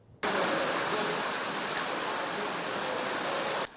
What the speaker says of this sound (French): Il pleut donc au Sénégal du nord au sud comme d'est en ouest